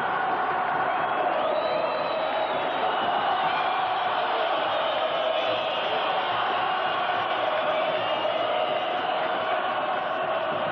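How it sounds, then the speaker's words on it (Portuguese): São Paulo supporters roar and chant in a football stadium during a 1989 Paulistão match against Portuguesa, a dense, steady crowd noise that holds throughout, broad and distant-sounding with no break. "Torcida do São Paulo se fazendo presente."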